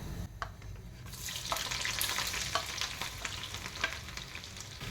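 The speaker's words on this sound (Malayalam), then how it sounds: "വെളുത്തുള്ളി നമുക്ക് ഫ്രൈ ചെയ്തെടുക്കാം" Garlic frying and being stirred in hot oil for a Kerala sadya ginger curry, a steady close sizzle with scraping stir strokes throughout and no voices.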